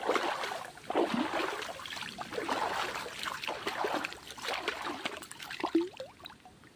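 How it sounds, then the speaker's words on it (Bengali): Water splashing and sloshing as someone bathes in a village pond, continuous close gurgles and dribbles with scattered louder splashes, at a moderate level with no talk. "অনেক দিন পর পুকুরে স্নান করছি"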